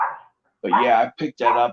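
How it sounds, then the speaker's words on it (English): A dog indoors gives a few short, loud barks in quick succession, close to the microphone, with a person speaking briefly at the start. "That's my dog walking by"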